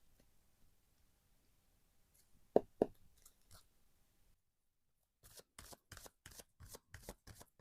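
Oracle cards are shuffled during a tarot reading: a few soft taps and flicks, a pause, then a run of crisp, rhythmic riffles close to the microphone.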